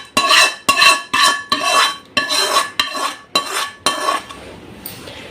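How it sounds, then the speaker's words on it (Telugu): A spoon scrapes and clanks against a steel bowl in a quick series of about nine sharp strokes as oil-fried tempering is stirred into drumstick pickle, close and loud, with the strokes trailing off softer at the end. "ఇలా ఆయిల్లో ఫ్రై చేసుకున్న పోపు ఉంది కదా, వీటిని కూడా ఇందులో వేసేసుకుందాం."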